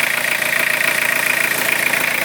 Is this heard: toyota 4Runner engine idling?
yes